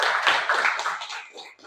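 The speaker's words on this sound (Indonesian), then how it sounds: "Berikan tepuk tangan buat kelompok 4." A class of students claps for group 4 during a teacher's classroom guidance session, a dense burst of hand claps that fades toward the end, with voices mixed underneath.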